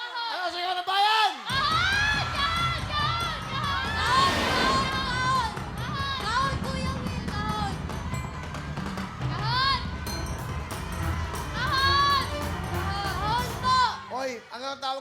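A Filipino game-show studio audience shouts an answer together, loud and sustained crowd noise lasting most of the time, with a host's voice cutting in.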